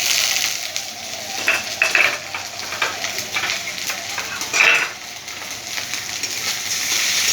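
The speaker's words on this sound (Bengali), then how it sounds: "ভালো করে নাড়াচাড়া করে নিলাম" A spice mix of ginger paste, turmeric, salt and a little sugar stirred in a hot pan: gentle sizzling with intermittent scrapes and clinks of a utensil against the pan, close and moderately loud.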